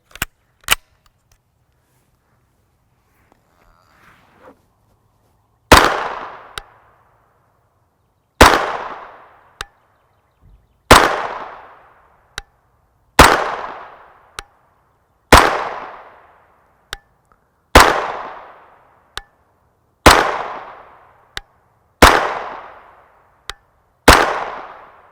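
Nine loud, sharp 9mm shots of Federal Hydra-Shok 135-grain hollow points ring out from a CZ Scorpion Evo 3 S1 short-barreled rifle, spaced roughly two to three seconds apart, each with a short decaying echo outdoors.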